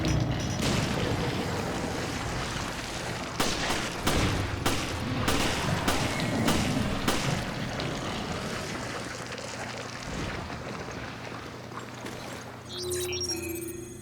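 Resident Evil Revelations combat: a burst of rapid gunfire and heavy explosive booms in quick succession, loud and close, then thinning into rumbling echoes before fading to quieter game ambience.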